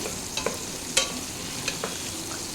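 Ingredients fry in a pan for Kolkata-style chicken biryani, making a soft, steady sizzle with a few light scrapes and clicks of stirring, quiet and close.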